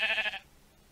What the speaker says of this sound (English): What do you want, sheep?